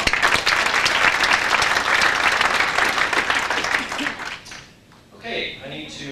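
An office audience at a company all-staff meeting breaks into dense, full applause that holds steady for about four seconds, then dies away into scattered claps and murmuring.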